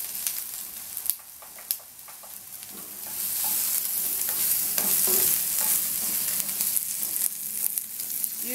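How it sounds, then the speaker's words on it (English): Vegetables for ratatouille fry hard in a wok over a high-heat wok burner, a loud, steady sizzle that swells partway through, broken by scraping stirs and a few sharp clacks of the utensil against the pan. "This is on the wok burner, that's why I've always got more sizzle and more heat."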